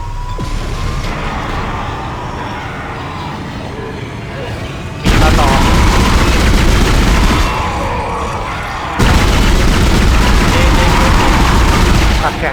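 Rapid, loud bursts of gunfire in the Dead Space video game, firing in sustained volleys that cut abruptly in and out, with a quieter ambient stretch between, and someone speaking over the action.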